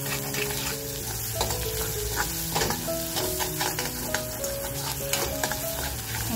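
Tomato-onion masala sizzles steadily in a pan while being sautéed with salted dried fish (dried wakti), with a spoon scraping and stirring through it at close range and no voices.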